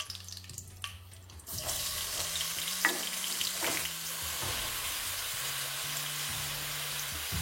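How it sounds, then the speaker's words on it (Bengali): Marinated soybeans frying with cumin and chillies in ghee, a steady close sizzle that swells after a quiet start, with a few light stirring knocks over the hiss. "তারপর এটাকে ভালো করে কষাতে থাকুন।"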